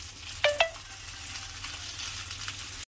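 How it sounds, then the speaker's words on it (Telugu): Soft steady sizzling of gongura leaves frying with turmeric in a pan for a gongura chicken curry, with two brief clinks of a utensil near the start, then a low continuous hiss. "దీనిపైన కొద్దిగా పసుపు, కొంచెం పసుపు వేసుకొని ఇది మెత్తగా వేగనివ్వాలి."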